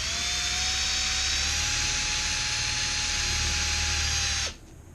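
Power polisher loaded with paste whines at a steady high pitch against an aluminum radiator from a 3rd gen Honda Prelude, running evenly before cutting off abruptly near the end.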